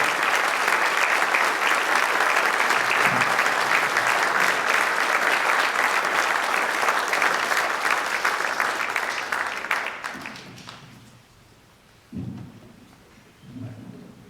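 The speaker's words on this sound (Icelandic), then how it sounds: "við skulum klappa upp á sviðið félagana úr hljómsveit Óskars Gunnarssonar" An audience at an anniversary celebration claps loudly and steadily for about ten seconds to welcome a band onto the stage, then the applause tapers off and a few low thumps and room sounds follow.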